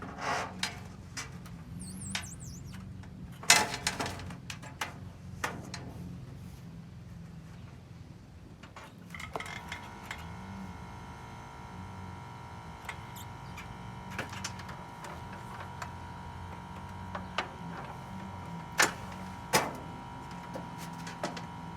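Metal flashing is bent on a sheet metal brake, giving quiet scattered clanks, taps and creaks with a faint steady hum behind them, and no talking.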